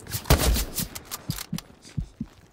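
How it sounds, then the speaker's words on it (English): Machine gun fire in a World War II shooter set in Carentan, heard as short, spaced bursts of muffled, fairly distant shots with no talk over them. "MG down that alley."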